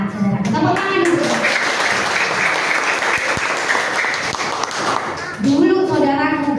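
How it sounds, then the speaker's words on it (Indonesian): A church congregation at a GGP service in Cikerang, Cilacap claps in sustained applause that fills several seconds, with a voice speaking just before it starts and again as it ends. "Tepuk tangan dulu."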